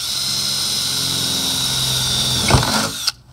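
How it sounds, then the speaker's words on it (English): A power drill whines steadily at high pitch while boring through a metal bar while mounting a large rear wing, with a brief clunk near the end before the drill stops. "No, we'll go through it or drill straight through."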